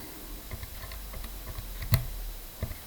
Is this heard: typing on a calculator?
yes